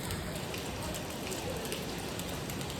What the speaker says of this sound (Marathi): पाऊस आलाय एकदम जोरात बघा.